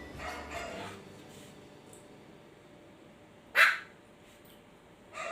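A single sharp dog bark rings out mid-clip over quiet room noise, with fainter yips and movement before and a short bark at the end.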